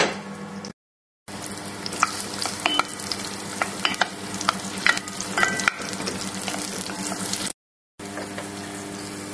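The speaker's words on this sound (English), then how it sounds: "The first thing I'm going to do is fry the onions." Onions frying in oil in a pan on the heat, a dense, crackling sizzle that carries on steadily with sharp spits and pops, cut by two brief silent gaps.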